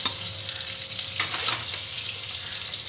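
Potato and pointed gourd chunks frying in hot oil give a steady, close sizzle with a faint crackle throughout and no voices.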